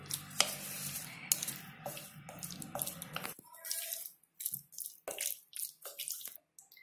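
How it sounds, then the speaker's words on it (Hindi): Paneer being mixed with garam masala and oil, heard up close as irregular wet scraping and squishing strokes that grow sparser and choppier toward the end, with no talking. "इन सबको मैं अच्छे से मिला लेती हूँ"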